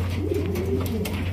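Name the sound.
Kaldam pigeons cooing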